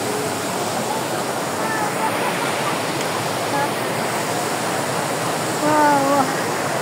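Tinago Falls roaring steadily as a continuous broadband rush of falling water, close and loud throughout, with faint bird calls over it.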